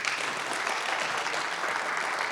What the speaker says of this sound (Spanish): Por favor, un fuerte aplauso para ella.